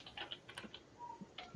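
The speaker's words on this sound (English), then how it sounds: "can you mute while you're typing just real quick?" Quick, irregular clicks of typing on a computer keyboard during an online call, faint and close with no talking over them.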